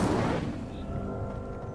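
A fire spell cast in Hogwarts Legacy erupts as a loud, booming burst that trails off into a sustained rumbling roar with a faint tonal hum, with no talk over it.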